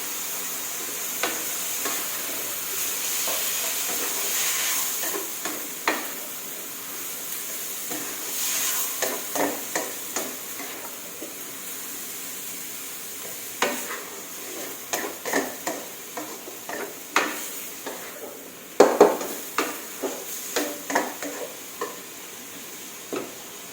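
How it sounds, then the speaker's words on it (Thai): Tomatoes stir-fried with minced pork in a hot pan for rad na noodles, steady sizzling with repeated scraping and clacking of a utensil against the pan, the strokes growing busier and louder toward the end. "ใส่มะเขือเทศลงไป ผัดมะเขือเทศให้พอสุกค่ะ"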